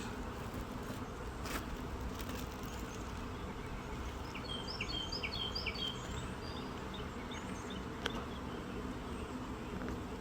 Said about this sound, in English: all the bees are now flying back to the frame